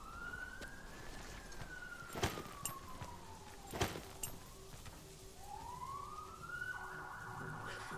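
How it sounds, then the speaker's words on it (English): Police siren wailing as ambient noise in the tactical game Door Kickers 2, a faint distant wail rising and falling slowly, with a couple of sharp knocks in between. "I don't know if that's just supposed to be like a police siren, like ambient noise,"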